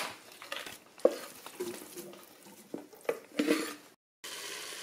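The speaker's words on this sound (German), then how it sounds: "So, wir wollen heute nur Hackfleisch anbraten." Minced meat being browned in a Silvercrest SSM 1000 multicooker: soft sizzling and frying with intermittent stirring scrapes and clinks, close and moderate in level, briefly cutting out near the end.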